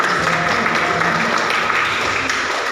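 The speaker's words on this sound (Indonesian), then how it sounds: "Saudara kasih tepuk tangan." A church congregation at a regional assembly of the GSJA in Sumba, Indonesia, applauding in a continuous dense wash of clapping, loud and steady, with voices mixed in.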